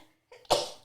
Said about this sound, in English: Sneeze. It's all right.